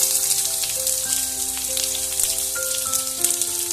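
Steady, hissing sizzle of whole spices frying in hot mustard oil, close up, with a few faint tonal hums in the background and no talking.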